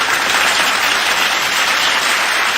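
A canned applause sound effect played during a livestream, a uniform wash of clapping at steady loudness with no voices over it.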